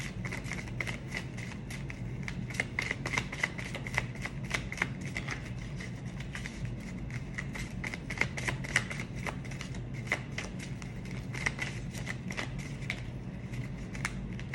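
Tarot cards are shuffled by hand in a quick, continuous run of soft riffling flutters and clicks, close and fairly quiet, with no voice over them.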